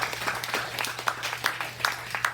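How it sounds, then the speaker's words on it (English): An audience claps after a business-growth presentation, the applause sparse and uneven, with a few sharp claps standing out over a low steady hum in the room. "Let's give Chris a nice round of applause."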